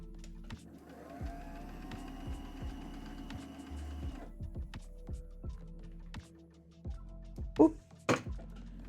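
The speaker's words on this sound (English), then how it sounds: "you're not even seeing the bobbin winding. I always like watching bobbins wind." A sewing machine winds a bobbin with a rising motor whir for about four seconds, then quiet clicks and handling taps follow, with a few sharper knocks near the end.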